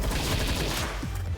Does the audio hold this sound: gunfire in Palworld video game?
yes